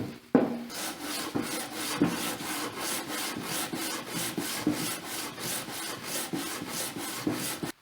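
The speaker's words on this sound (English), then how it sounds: "So I thought I'd flatten this surface off where the head gasket went. This is just 220 sandpaper." A Kawasaki cylinder head gasket surface being flattened with 220-grit sandpaper: steady rhythmic back-and-forth rasping strokes, about two per second, close and even, with no talk.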